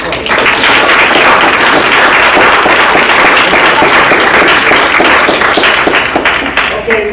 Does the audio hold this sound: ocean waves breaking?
no